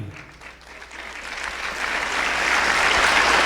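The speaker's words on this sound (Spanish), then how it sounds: "todavía no aplauden, porque no saben a quién están aplaudiendo." A church congregation at an anniversary celebration breaks into applause that swells from a soft start into a full, steady roar of clapping by the end.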